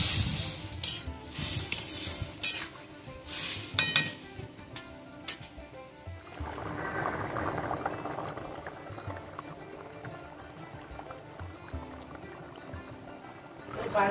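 Shrimp and fig curry bubbles and simmers in a pot after hot water is poured in, with clattering stirring and utensil knocks early, then a steady soft boiling burble.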